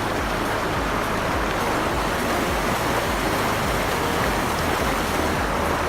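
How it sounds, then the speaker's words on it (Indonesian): Steady rain pours down along a forest walk to the Tekaan Telu waterfall, a dense continuous hiss that fills the whole stretch evenly, with no voices heard. "Situasi hujan."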